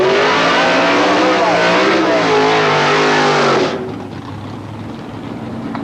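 Drag racing cars scream down the track at Palmdale Raceway in Los Angeles County, 1990, engines howling loud and steady, then the roar abruptly drops away into a distant rumble.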